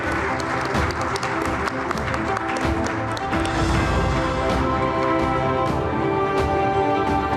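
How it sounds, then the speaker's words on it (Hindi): Sustained, dense applause from a large audience greeting Rajnath Singh on stage at an event, continuous and loud throughout with crowd noise mixed in. "एक बार जोरदार तालियां हो जाए राजनाथ सिंह जी के लिए। तालियां रुकनी नहीं चाहिए।"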